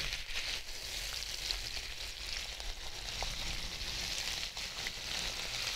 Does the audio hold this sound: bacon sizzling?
yes